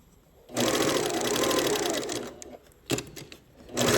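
A sewing machine stitching quilt strip units together runs in a loud, close burst of rapid whirring for about two seconds, then stops, followed by short clicks and handling noise before starting up again.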